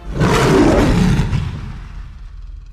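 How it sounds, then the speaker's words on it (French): A lion's roar used as a sound effect in a French children's audio story, one loud, long rumbling roar that swells early and slowly fades over nearly three seconds, with no voices. "Le lion prend une grande inspiration et pousse son plus beau rugissement."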